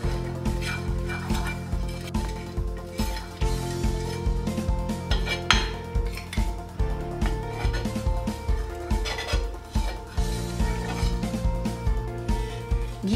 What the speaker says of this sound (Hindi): सबसे पहले हम तवा गरम करके उस पर घी डाल देंगे।